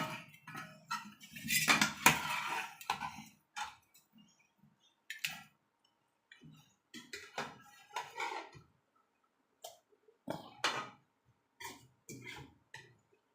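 Bottle gourd halwa made with jaggery is scooped from a pan into a bowl: close, irregular clinks, scrapes and taps of a spoon against metal, coming in short bursts with quiet gaps and no speech.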